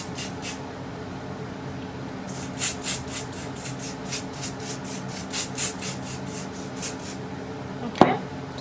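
A can of Extreme Mega Hold adhesive spray is shaken and then sprayed in short hissing bursts over a wig cap, with soft rubbing sounds and a sharp knock near the end.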